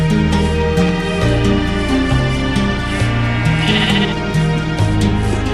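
Loud, continuous bleating of sheep in the survival game Snow Craft over a steady musical backdrop, several overlapping cries in quick succession with a synthetic, game-like quality.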